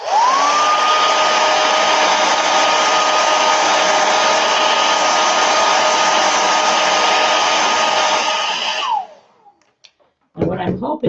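A hair dryer blows steadily and loudly on a freshly made craft letter G for about nine seconds, then switches off, after which a person speaks.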